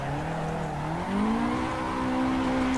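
Simulated drift car engine, street car on a mountain touge course, revving smoothly as the throttle rolls on, its droning pitch stepping up and rising steadily, loud and close without talk.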